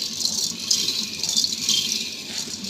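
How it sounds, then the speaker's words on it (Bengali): Polao rice goes into a pot of frying onion, ginger, garlic, bay leaf and whole spices, a continuous dry rattling hiss of grains falling and sizzling, close and steady. "এখন আমি এই যে পোলাও চালটা আস্তে আস্তে দিয়ে দিব"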